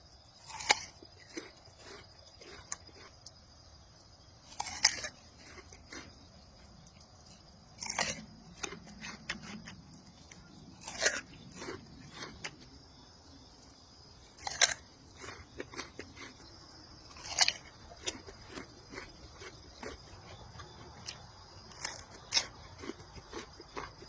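Someone bites into and chews a crunchy, juicy fruit with its seeds, close to the microphone. The crunches are sharp and irregular, set against a faint steady background hum, and no talk is heard.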